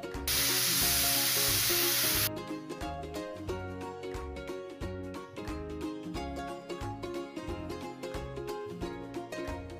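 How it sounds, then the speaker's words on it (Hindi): A pressure cooker on a medium flame, cooking a mushroom and pea curry with water, releases a loud, steady hissing steam whistle for about two seconds, then gives way to ongoing music. "तो कुकर का ढक्कन लगा लेंगे और 2 सीटी आने तक इसे पकाएंगे।"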